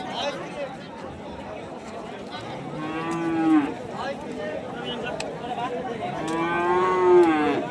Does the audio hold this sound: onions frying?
no